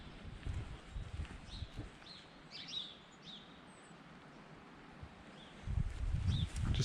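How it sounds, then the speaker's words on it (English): Birds chirp and call intermittently over a steady wash of flowing water along the West Highland Way in Scotland in March, with a few louder rustling bursts near the end. "Just the sound of the birds and the water."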